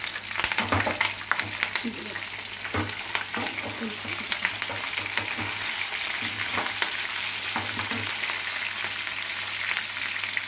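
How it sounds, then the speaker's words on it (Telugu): Chicken pakodi deep-fries in hot oil, a dense, crackling bubbling that runs continuously at close range, with a low hum behind it. "ఇలా డీప్ ఫ్రై చేసుకోవాలి."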